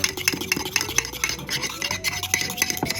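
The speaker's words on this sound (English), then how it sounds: "I switched to a fork because it's nice to kind of beat it all together" A fork clinks and scrapes rapidly against the inside of a mug, beating a thick pumpkin mug cake batter with protein powder in a steady, busy rhythm close up.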